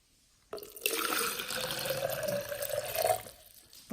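A drink is poured into a hospital cup with a straw, giving a close, continuous liquid splash and trickle that lasts about three seconds before tapering off.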